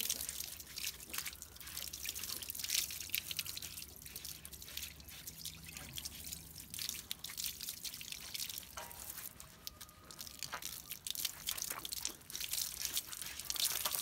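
Water drips and trickles steadily while a Cane Corso dog is washed, with scattered splashes and a soft wet crunch throughout, fairly close and unbroken by speech.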